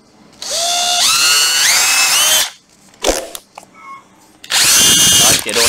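Bosch cordless drill whirring in loud bursts, spinning up and shifting pitch, with a pause holding brief clicks and knocks before it runs again.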